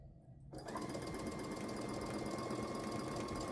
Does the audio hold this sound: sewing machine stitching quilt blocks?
yes